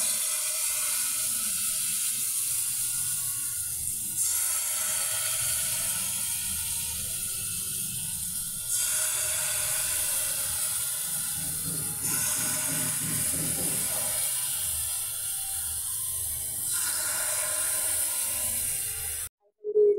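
Palm fruit pitha cakes frying in hot oil, a steady sizzling hiss that swells and eases in several long stretches, close by, with no talk, ending in a brief knock.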